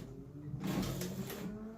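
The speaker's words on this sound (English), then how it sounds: "So I'm just going to start sewing." Sewing machine starting to stitch an overlap tack with a swing-down edge guide: a brief, quiet mechanical whirring burst in the middle, faint and close, with no talking.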